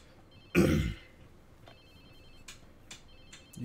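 A phone rings inside the open-world game Watch Dogs 2, with a loud burst of tone near the start followed by repeated short, faint electronic ring pulses against quiet game ambience.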